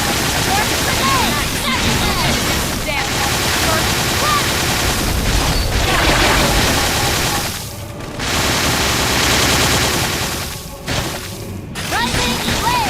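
Grenade blasts and combat effects in Xenoblade Chronicles X, a loud dense wash of booming bursts and crackling noise with brief sharp drops between hits, layered with game voices and music.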